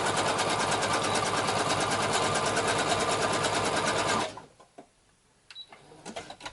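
A sewing machine runs at a steady fast whir, stitching a reinforcing zigzag down and back. It stops abruptly partway through, leaving a few faint clicks and handling noises.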